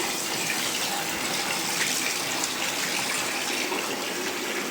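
A kitchen tap runs at full flow while prawns are rinsed, a loud steady hiss of gushing water that stays even throughout, close and without any talk.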